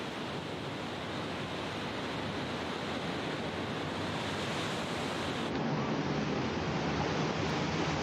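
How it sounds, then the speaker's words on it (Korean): Huge ocean waves pound against sea cliffs in the Faroe Islands, a steady roaring surf mixed with wind that fills the whole stretch at constant loudness and holds no voices. "엄청난 파도가 절벽을 계속 두드리며 설원처럼 펼쳐진다."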